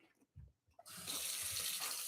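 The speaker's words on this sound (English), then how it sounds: "we're just going to put a bunch of water in there and let it expand" Water pours into a container for arugula microgreens: a few soft clunks of handling, then a steady close gush of running water that fills the rest of the moment, with no voices.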